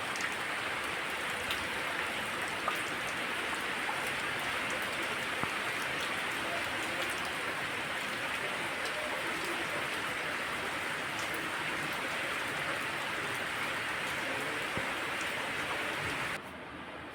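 Constant rainfall hisses evenly for a long stretch under trees with stirring leaves. It drops abruptly quieter right at the end, with no voices.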